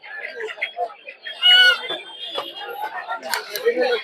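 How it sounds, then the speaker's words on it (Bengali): White quail and other poultry at a busy rural livestock market give short chirps and clucks among the crowd, with people chattering nearby over the birds. "এখানে আরো বিভিন্ন ধরনের সাদা কোয়েল পাখি আছে।"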